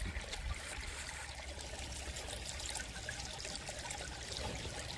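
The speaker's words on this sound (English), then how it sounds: "let's get this bucket rinsed out" Water rushing and splashing steadily while a bucket is rinsed out during gold sluicing, a continuous close, even wash without speech.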